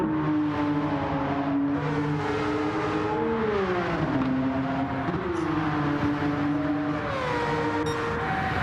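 Group C prototype race cars lapping Monza in Gran Turismo 7, a steady layered engine drone with pitch swooping up and down through gear changes, continuous and fairly loud with no talk.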